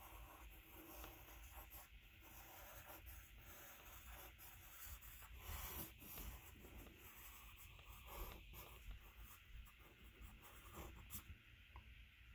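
A pencil moves continuously across paper in a contour drawing, with close, steady scratchy strokes and small rhythmic variations throughout.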